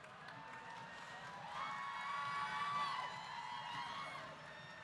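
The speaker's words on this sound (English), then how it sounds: "can we give her one more round of applause?" A pitch-event audience cheers and whoops over broad crowd noise, swelling midway and staying steady and fairly distant, with no clear individual voices.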